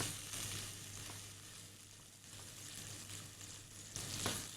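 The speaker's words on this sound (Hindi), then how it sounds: "इस तरह इसको स्टर करते रहना है, चमचा चलाते रहना है।" Boiled potatoes cooking in yogurt and spices in a pan over medium-low heat, a soft steady sizzle with a low hum beneath it and a spoon stirring now and then, faint and close.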